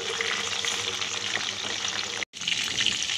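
Chicken pieces sizzle steadily in hot oil while their second side fries, a dense continuous crackle with a brief dropout near the end before the sizzling resumes.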